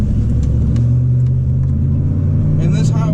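A lifted pickup truck on a hilly highway holds a steady loud engine and road rumble with a sustained low drone as it picks up speed, and a voice briefly speaks near the end.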